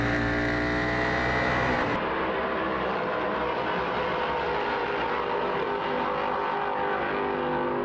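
F4 race cars roar around the COTA circuit in a continuous, loud engine drone with high revving harmonics and shifting pitch as the cars pass, with no talk over it.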